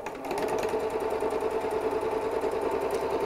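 A sewing machine runs continuously while stitching a fabric storage cube, a close, even buzzing hum with fast regular needle pulses held steady throughout, no voices over it.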